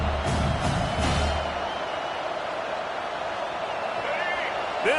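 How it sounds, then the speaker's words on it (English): Steady roar of a college football stadium crowd at a Washington versus Oregon game, a dense continuous wash of noise with a few whoops and cheers rising early, while a commentator talks over it. "This crowd bringing the energy and noise early."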